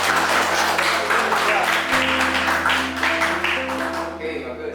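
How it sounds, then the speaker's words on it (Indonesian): Students in a classroom give a round of clapping for a classmate, a dense, steady patter of hands fading out toward the end, with a faint hum underneath. "Beri aplaus dulu buat Joshua ya."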